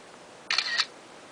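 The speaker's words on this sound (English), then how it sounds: "make a shutter noise" iPhone screenshot shutter effect on iOS 6, a single crisp two-part camera click lasting about a third of a second, clear over a faint hiss.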